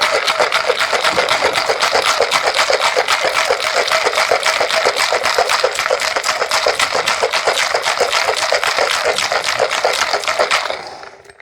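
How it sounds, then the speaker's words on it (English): Ice rattling hard inside a cocktail shaker while mixing a Last Word cocktail, a rapid, steady, loud rhythm of sharp clacks kept up for about ten seconds before stopping abruptly. "give that a quick shake"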